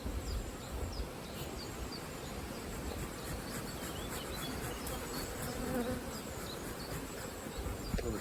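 Honey bees swarm around opened deep-box hive splits while queen cells are checked, filling the air with a dense, steady buzz. Individual bees whine past up close, and no one speaks.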